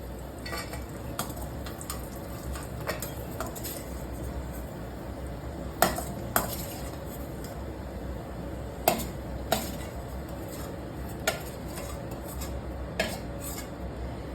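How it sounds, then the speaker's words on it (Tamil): Roasted cashews and raisins being scooped out of a kadai onto a plate, with a faint background sizzle and intermittent sharp clinks and scrapes of a spoon against metal, close and clear. "இப்போ இது நல்லா வறுபட்டதும் ஒரு பிளேட்டுக்கு ட்ரான்ஸ்ஃபர் பண்ணிக்கிறேன்."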